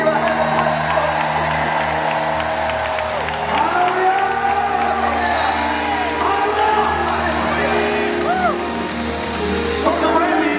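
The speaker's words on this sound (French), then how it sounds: "Est-ce que vous pouvez applaudir pour les chrétiens?" A church congregation at a worship service applauds and cheers, with loud continuous clapping, shouts and whoops from the crowd, and voices and tonal sounds rising through the din.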